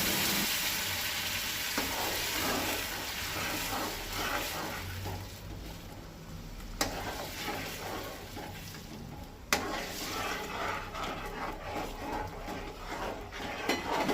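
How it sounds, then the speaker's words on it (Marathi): Semolina for a Goan sweet sheera sizzles in a pan while hot water is poured in gradually and the mixture is stirred, a continuous close hiss and bubbling, with two sharp clinks of a utensil against the pan. "उदक इल्लें इल्लें घालूंक जाय आनी हळशीन तें चाळीत रावपाक जाय।"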